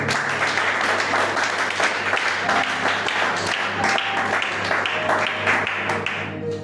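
A church congregation applauds steadily and loudly for several seconds, dense clapping filling the room with a faint hum beneath it and the applause tapering slightly at the end.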